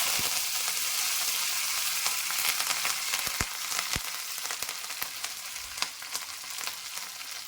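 Mustard seeds and curry leaves sizzle hard in hot coconut oil in a pan, a dense, steady crackling hiss with scattered sharp pops, close and continuous throughout.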